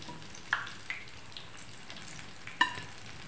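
Eggplant pakoras frying in hot oil, a steady close sizzle and bubbling with a few sharp spatters as pieces are turned and stirred, with no talking.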